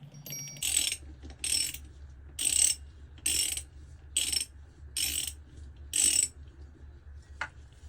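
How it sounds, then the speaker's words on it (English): A ratchet tightens transmission bolts on a Ford Focus with seven short, crisp bursts of rapid clicking, evenly spaced about a second apart. The clicks are close and fairly loud over a low steady hum, ending with a single sharp tap. "And then just tighten down the bolts to this one too."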